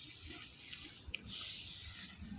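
Water poured from above onto a potted marigold plant, a steady close splashing trickle running for the whole stretch with a couple of small drip-like plops near the middle.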